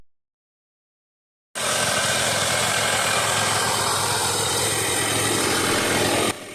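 A $500 adventure motorcycle engine with a freshly unclogged muffler starts after a stretch of silence and runs steadily. The sound is a loud, even idle with a constant buzzing drone that eases off right at the end.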